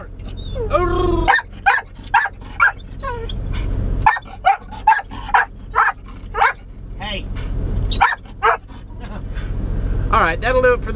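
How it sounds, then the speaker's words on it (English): A dog barks in a string of sharp, close bow-wows mixed with yips and whimpers, loud bursts in an uneven rhythm over a low engine-like hum. "You're supposed to sing, not bark."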